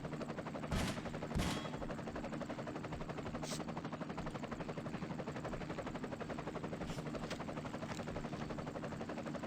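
Video game The Suffering: Ties That Bind: a helicopter's steady rotor drone runs throughout, with a couple of loud gunshot bursts early on and fainter shots later, no talking.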